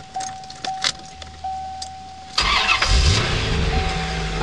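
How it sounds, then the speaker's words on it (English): A 1994 Chevrolet Corvette starts up: a warning chime and faint clicks and key sounds come first, then the starter catches and the engine fires into a loud, steady idle. "This car fires right up."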